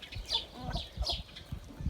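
Chicken clucking in a coop, a few soft close clucks and low murmurs over a quiet background.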